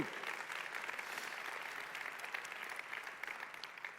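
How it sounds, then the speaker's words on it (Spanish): A church congregation claps for the Lord during a sermon, a continuous crowd applause that sounds fairly soft and distant, holding steady for the whole stretch with no voices over it. "Dale un fuerte aplauso al Señor."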